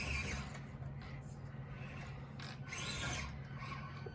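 Pro-line Hyrax 1/24 tires rubbing and scraping on an SCX24 RC crawler as it climbs a staircase, a steady close raspy friction with a few louder swells.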